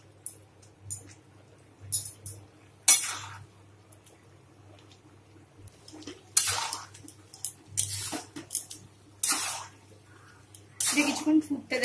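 Fried cauliflower is stirred into sauce in a pan for cauliflower manchurian, making intermittent scraping, clinking and wet squelching sounds between quiet pauses.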